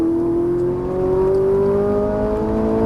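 Ferrari 458 Italia on a racetrack accelerating, a loud continuous engine note rising smoothly in pitch, close and unbroken with no talking.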